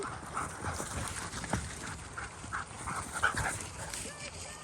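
Dogs pant and whimper close by, with a few soft yips and a person's voice speaking intermittently over them.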